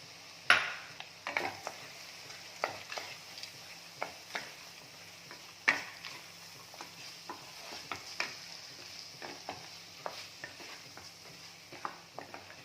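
A spoon scrapes and clacks rhythmically as okra and vadas are stirred in a frying pan. Irregular metallic taps come every second or so over a soft, steady sizzle.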